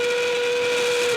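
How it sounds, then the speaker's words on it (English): Loud, sustained endgame whistle at a robotics competition match, one steady high tone held for over a second with no talk over it. "Endgame whistle sounds."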